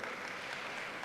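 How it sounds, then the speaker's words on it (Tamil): Brief burst of steady applause from a church congregation at CSI Immanuel Church in Coimbatore, a continuous wash of clapping with no voices. "ஒரு கைத்தட்டு கொடுங்களேன் அவருக்கு."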